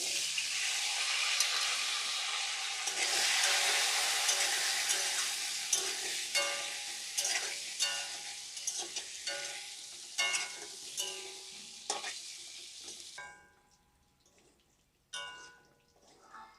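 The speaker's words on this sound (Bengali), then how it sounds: "এবার আলুগুলো ভেজে নেব।" Potatoes frying in a pan give a loud, dense sizzle that gradually eases into rhythmic stirring scrapes, then drops to near quiet with one brief final burst of sizzle near the end.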